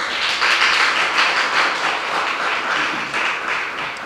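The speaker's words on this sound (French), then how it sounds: "Il y a notre applaudissement encore pour Rosalie." A television studio audience applauds a guest on a youth talk show, a dense, steady wave of clapping held at full strength throughout.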